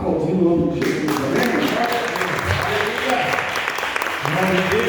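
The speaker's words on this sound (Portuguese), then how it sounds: "Aplaudindo o nome de Jesus." A church congregation gives sustained, dense applause in a large hall, with raised voices and cheering mixed in throughout.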